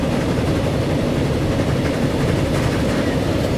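Train rolling along in Transport Fever, a dense, loud, continuous rumble of wheels and engine with no clear breaks, close and steady.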